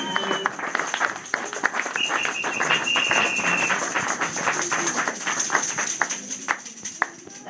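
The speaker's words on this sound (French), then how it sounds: "Est-ce qu'on peut applaudir pour la gloire des Tout-Puissants?" A church congregation in France applauds in praise, dense clapping sustained throughout with scattered sharper claps and a brief whistle-like tone, fairly close and steady.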